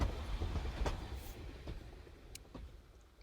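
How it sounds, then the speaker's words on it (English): A train passes close by with a low, continuous rumble and faint clattering of wheels, fairly quiet overall and slowly fading over a few seconds. "the train is super close"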